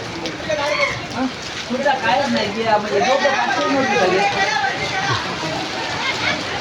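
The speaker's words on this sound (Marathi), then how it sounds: "समोर जोरात पाऊस आला आता पाच मिनटं पडणार" Heavy rain pours at a busy outdoor Friday market, a steady wash of rainfall under constant nearby chatter and crowd babble, with people talking throughout.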